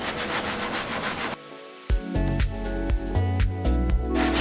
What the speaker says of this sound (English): Scrubbing very, very lightly.